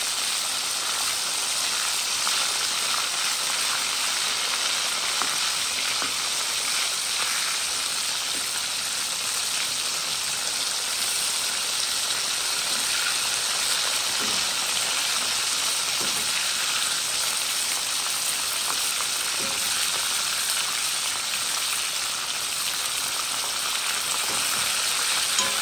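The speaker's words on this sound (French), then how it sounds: "Les saucisses qui pètent dedans, tu vois." Sausages fry in a pan with a loud, continuous close sizzle, dotted with small pops and crackles across the whole stretch and no talk.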